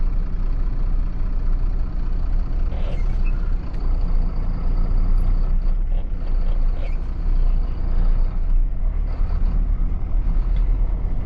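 Heavy traffic of trucks and cars on the road to Mumbai rumbles close by in a continuous low drone, with occasional air-brake hisses and faint high beeps over the engines.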